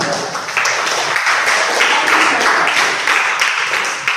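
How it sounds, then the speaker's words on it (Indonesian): Students in a classroom applaud after group work, a steady wash of many hands clapping together for several seconds, close and fairly loud, with no speech over it. "Tepuk tangan dulu ya untuk kita semua."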